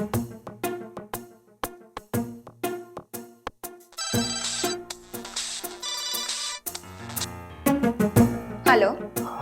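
A mobile phone ringtone plays a melodic, repeating chime pattern, steady at first and then fuller and busier, ringing alone and clearly at close range.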